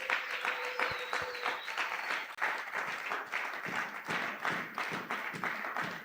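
A church congregation applauds at a Sunday worship service, dense, steady clapping from many hands filling the room throughout, with no pause.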